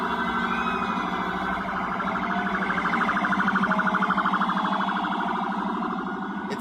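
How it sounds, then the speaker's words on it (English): Police sirens wail in a continuous rising and falling tone at moderate distance, steady throughout over a busy city street background in New York, no talk. "The doors are open, the sirens are on."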